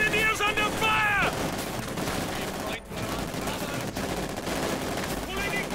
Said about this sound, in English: They're being fired upon!